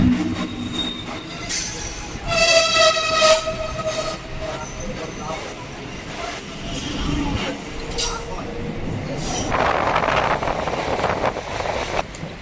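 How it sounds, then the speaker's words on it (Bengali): A train rolling into Bidhannagar Road railway station heard from on board, with rhythmic wheel clatter, repeated metallic squeals and clinks, and a low rumble throughout, under a voice talking. "এই মুহূর্তে আমাদের ট্রেন প্রবেশ করছে তার প্রথম হল বিধাননগর রোড রেলওয়ে স্টেশন"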